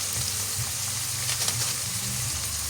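Shredded chicken frying in a pan on low heat gives a steady, close sizzle and crackle throughout, with soft stirring bumps now and then.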